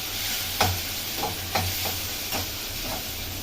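Broad beans (avarakkai) sautéing in a pan for thokku, a steady broadband sizzle broken by a few sharp stirring scrapes, close and alone.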